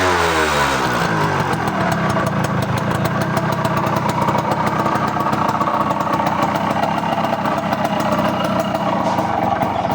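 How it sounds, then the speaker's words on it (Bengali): A two-stroke motorcycle engine idles loud and close, settling from a revving start into a steady, buzzy, rapid putter that runs unbroken with no talk. "এটি কিন্তু একটি 2 স্ট্রোকের বাইক হবে"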